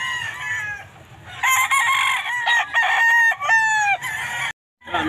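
A bulik gamecock rooster at a pet market crows loud and close in long harmonic calls, with clucks mixed in and a brief cut-out near the end.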